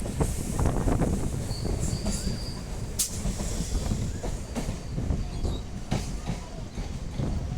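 Train pulling into Phulia station in West Bengal, with steady rumbling wheels, a clattering rhythm and a brief squeal high above, loud and close throughout with no voices.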